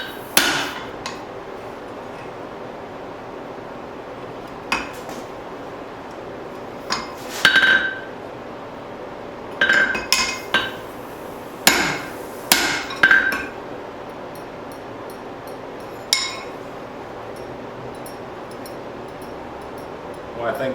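Sharp metallic hammer blows strike spring steel while forging a hatchet, coming in scattered single hits and short bursts of two or three ringing clinks, separated by quieter stretches of low background hum.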